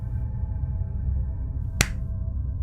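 A single sharp hand clap rings out once, close and crisp, against a steady low background hum in an otherwise quiet space.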